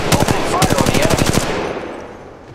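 Rapid automatic gunfire in Apex Legends, loud and close, with two quick bursts of evenly spaced shots followed by a fading tail of echo.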